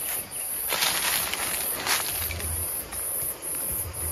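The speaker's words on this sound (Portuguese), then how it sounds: "Esse aqui é o nosso melhor enxame, né, André?" A strong, active bee colony hums at a hive box, a dense steady buzz with a high whine on top and a few brief louder swells, no talking.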